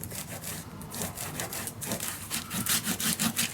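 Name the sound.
burnishing paper down on a mini album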